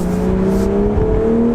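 A 2020 BMW Z4 M40i engine holds a steady, loud, close drone with a smooth sustained tone from inside the car, rising slightly through a short stretch with no talking.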